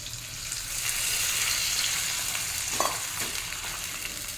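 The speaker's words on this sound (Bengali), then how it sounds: "এক বাটি জল দিয়ে দিয়েছি।" Raw mango chutney sizzles in a pan after a bowl of water is added, a constant hiss with a brief louder splutter and stirring scrape partway through, no talking.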